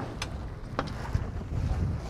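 Sailboat sailing upwind, steady wind rush and water noise near the microphone with a few brief sharp knocks and splashes, no talk.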